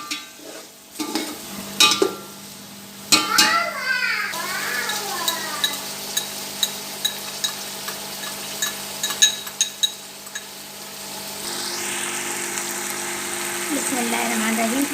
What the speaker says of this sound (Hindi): और इसको 5 मिनट भूनेंगे जब तक हमारे टमाटर सॉफ्ट नहीं हो जाते, मसाला भून नहीं जाता।